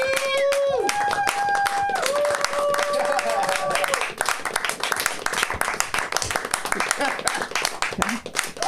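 A comedy show audience claps in a long burst of dense, close applause that swells and keeps going steadily, with a performer's voice speaking over the opening seconds.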